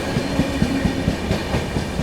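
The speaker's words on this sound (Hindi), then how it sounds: "दोबारा से ट्रेन ने रफ्तार बनाई।" The 15658 Brahmaputra Mail express train running at high speed, a steady rumble with rhythmic clickety-clack of wheels over rail joints heard from on board, with no talk.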